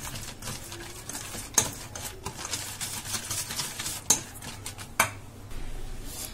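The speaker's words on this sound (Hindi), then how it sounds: "और हम इन्हें एक बार और मिक्स कर लेंगे।" Crushed Oreo biscuits being stirred into an ice cream mixture in a bowl: soft scraping with a few sharp spoon clinks against the side, close and unhurried, with no talk.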